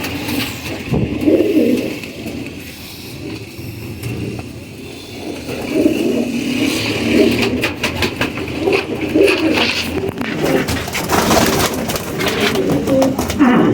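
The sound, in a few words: teddy pigeon cooing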